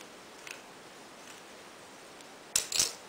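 Scissors snip through fabric while sewing a bag pocket, two quick crisp cuts near the end after faint handling rustle.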